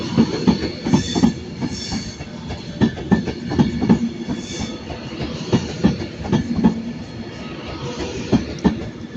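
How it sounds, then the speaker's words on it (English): Avanti West Coast Pendolino train passing through Manchester Piccadilly at platform 14, a loud rhythmic clickety-clack of wheels over rail joints with rumbling and faint squeals, continuous throughout. "That's the first time I've seen an Avanti West Coast Pendolino passing by on platform 14."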